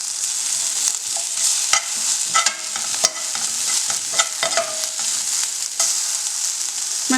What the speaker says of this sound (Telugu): అది కూడా మనం ఈ మెంతికూరతో పాటు వేయించేద్దాము